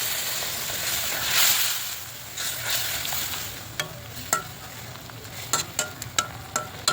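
Partly boiled green beans frying in a pan with a wet ground mustard and chili paste, giving a soft steady sizzle and hiss, and then a run of sharp clinks and scrapes as a utensil stirs the pan.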